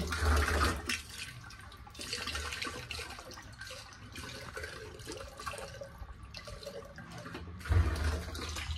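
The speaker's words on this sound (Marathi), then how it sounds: "पायावर पाणी घेते." Water is poured over feet, splashing and streaming steadily at close range, with a louder gush at the start and again near the end.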